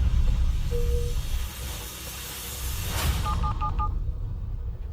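A telephone number is dialled in a 1980s-set drama: after a sweeping whoosh, a quick run of short, clear keypad beeps sounds close by, followed by quiet.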